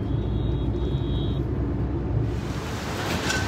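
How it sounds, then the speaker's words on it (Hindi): Delhi road traffic heard from inside a moving vehicle, a steady low rumble of engines and tyres with a faint high tone early on, continuous and moderately loud. "अब ये दिल्ली का ट्रैफिक शुरू हो गया है।"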